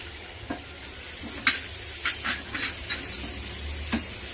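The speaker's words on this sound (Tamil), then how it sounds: "வெங்காயம் நல்லா கோல்டன் கலர்ல வரைக்கும் வறுத்துக்கலாம்" Onion and green chillies frying in a pan with fennel seeds, a continuous close sizzle broken by several scraping stirs of a spoon.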